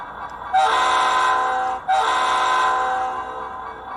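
A deep, steady horn tone from an Auscision CLF class model train with ESU sound decoder, playback speed set to 120, sounds in two long blasts, the second following a brief break, loud and close with no talking.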